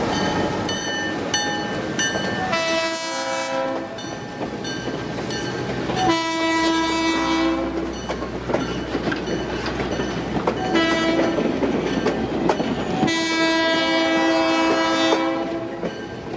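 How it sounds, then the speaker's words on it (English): A GP9U diesel locomotive on the New Hope Railroad rumbles close by as it rounds a corner toward a crossing, its horn sounding in several long, loud blasts, with steady wheel and engine noise between them. "GP9U 8218 would round the corner as it approached the crossing"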